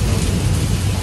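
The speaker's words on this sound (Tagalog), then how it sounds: "Ayan, ang thunderstorm." Steady heavy rain outside a hotel during a thunderstorm, a dense, loud hiss with a low rumbling undertone, continuous with no break.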